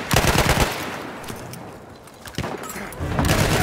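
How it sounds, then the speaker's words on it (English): Machine gun fire in the Battlefield 1 video game, dense bursts of rapid shots at the start and again near the end with a quieter lull between, loud and close over battlefield noise. "Machine gun! Watch it,"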